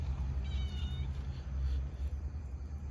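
A cat gives a short, faint meow over a constant low hum of room or kitchen noise, with brief rustling nearby.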